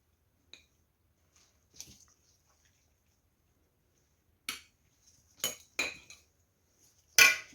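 Shredded cabbage being pressed down by hand for sauerkraut, heard as a few short, sharp crunching squeaks spaced apart, with quiet pauses in between and no talking.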